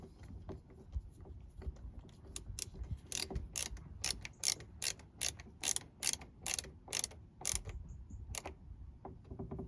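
A door mirror being screwed onto a 1990s Mercedes 220CE W124 coupe, with a rapid ratcheting click of a hand tool in close, regular bursts over faint background rustling, and no talking.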